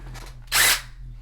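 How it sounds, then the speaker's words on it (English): An electric impact wrench breaks loose the engine oil drain bolt on a 2012-2019 Toyota Prius C, firing one loud, harsh burst of about a third of a second over a low steady hum. "so then I had to bust out the electric impact."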